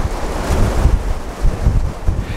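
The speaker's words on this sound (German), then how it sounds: "Was für ein Wind hier, holla!" Strong wind buffets the microphone at the Los Olivos campsite in Spain, a loud, continuous roar with gusty surges throughout and no one speaking.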